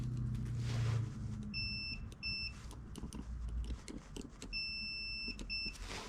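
A multimeter's continuity beep during repair of a hot-water pressure washer, sounding as several short, clear electronic beeps in bursts over a low steady hum, close by with no talk.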